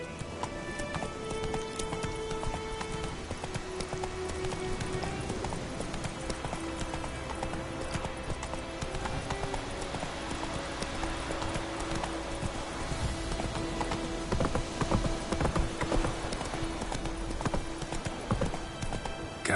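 Roach, the horse in The Witcher 3, gallops with steady clip-clop hoofbeats over a continuous background of game music and ambient noise, loud and close throughout.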